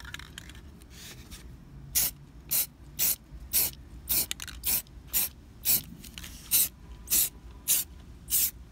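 Fabric adhesive sprayed from a can onto a car headliner: about a dozen short, sharp hissing bursts in a steady rhythm roughly every half second, close by, with no talking.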